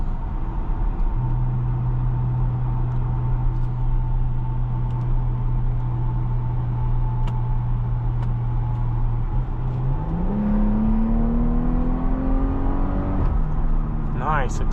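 2022 Porsche Cayenne S Coupe heard from inside while accelerating on the road, a steady engine drone that climbs in pitch with a gear change, under faint cabin noise.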